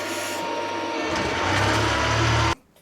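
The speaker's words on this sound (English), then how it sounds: "Drilling plastic," Edgwick lathe drilling through plastic stock, a steady close-up mechanical whir and grind that deepens slightly midway and then cuts off abruptly near the end.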